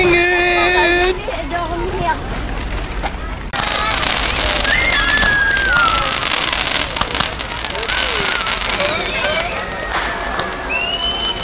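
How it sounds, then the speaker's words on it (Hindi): Small firecrackers going off outdoors at a Swiss National Day celebration in Interlaken, with loud crackling bursts and whistling rising tones over a busy crowd, and people talking and calling out throughout. "ये तो छोटे मोटे पटाखे हैं।"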